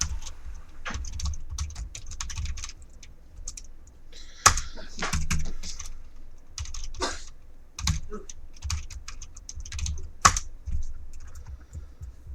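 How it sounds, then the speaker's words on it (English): Typing a date on a computer keyboard: irregular bursts of close clicking keystrokes over a low background hum, with a couple of louder key hits, no talk. "So I'm going to type in the date for this."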